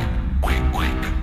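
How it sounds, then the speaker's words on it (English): Two loud, close quacks sound one after another, rising and nasal, over a thick musical background. "Ducks, ducks. Quack, quack, quack."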